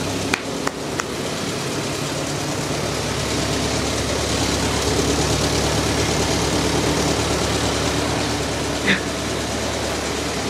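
A 100-year-old Ford Model T engine idles steadily in the snow, a loud, continuous low rumble with a few sharp clicks near the start, running on its own without talk.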